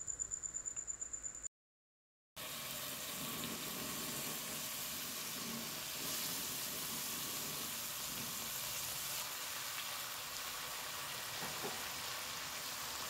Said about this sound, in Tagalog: iprito na natin ang ating cream dory